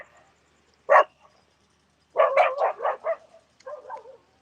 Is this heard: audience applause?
no